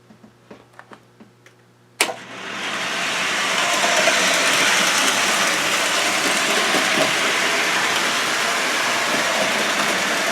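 A few soft clicks, then a sudden loud rush of continuous rumbling and rattling as a small O-gauge model train runs steadily along its track, close by.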